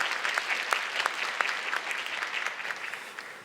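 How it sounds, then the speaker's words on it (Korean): Church congregation applauding at a Sunday service, a dense burst of clapping from many hands heard alone, moderately loud and fading slightly toward the end. "사역자분들을 위해서 박수 한번 보내주시면 되겠습니다."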